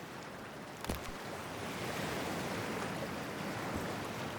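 Cold water sloshing and churning around a swimmer in Cyberpunk 2077, a steady broadband wash of surf-like noise with a brief splash near the start, alone with no voices.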